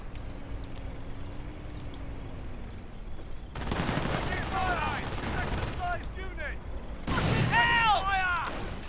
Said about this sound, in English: Were rifle grenades going off on this infantry?